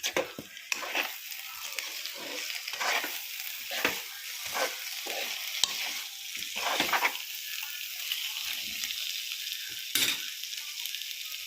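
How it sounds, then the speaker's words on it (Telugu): Chicken seasoned with chili powder fries in a pan while being stirred. A soft, continuous sizzle runs under repeated scraping strokes of the spoon, with no talking. "చికెన్ అయితే వేగింది ఫ్రెండ్స్"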